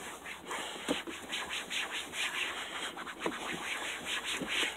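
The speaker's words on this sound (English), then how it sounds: "Take that compound and keep buffing it." Faded plastic car trim is buffed by hand with Meguiar's Ultimate Compound, producing a close, continuous rubbing and scrubbing hiss in repeated short strokes, with no talking.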